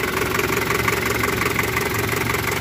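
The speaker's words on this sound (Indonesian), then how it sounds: "suaranya khas diesel TAF ya Pak" A 1994 Daihatsu Taft GT 4x4 diesel engine idling close by, a steady loud clatter with an even knocking rhythm throughout.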